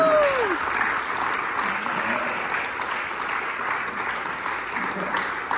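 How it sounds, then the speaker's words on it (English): Applause for a scholarship recipient at a youth orchestra award concert, a steady wash of clapping from the audience, moderately loud and continuous, with a faint voice briefly audible at the start. "Can we give a round of applause for Mr. Trevor?"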